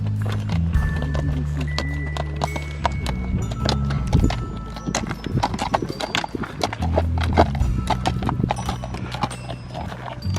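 Horse hooves clip-clop steadily on a rocky mountain trail on the Tour du Mont Blanc, a brisk, close rhythm of hoof strikes with a low rumbling hum underneath and no voices.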